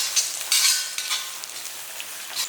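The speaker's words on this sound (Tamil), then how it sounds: "சின்ன வெங்காயத்தெல்லாம் வதக்கிக்கலாம்." Shallots sautéing over a low flame with ginger and garlic in a pan, a broad steady sizzle with a few louder bursts of hissing as they are stirred, heard alone without any talk.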